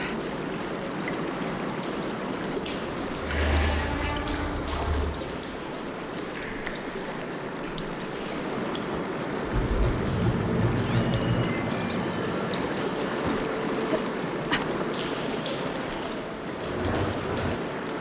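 Continuous rushing water flows steadily in the video game Horizon Forbidden West, a dense wash of sound with occasional low thumps and faint metallic pings.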